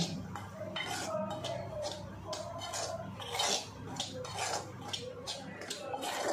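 Gram flour batter for ajwain leaf fritters is stirred in a metal bowl, with repeated spoon clinks and scraping in an uneven rhythm up close, and a faint voice now and then.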